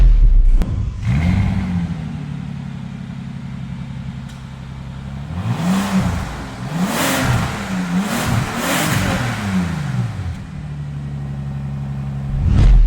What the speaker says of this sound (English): So now that we're in the Bentley, we're gonna do a sound test.